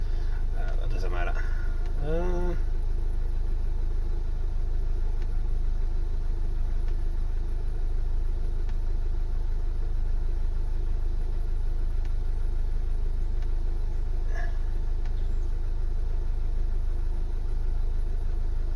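A VW Tiguan 2.0 TDI diesel idles with a steady, even low rumble under the voices of people talking nearby. The engine has a misfire fault.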